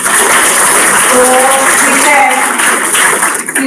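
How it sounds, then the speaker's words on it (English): An auditorium audience at a first-year B.Tech induction and orientation session applauds, a dense sustained burst of clapping close and loud, with voices speaking over and through it. "So can we clap for her?"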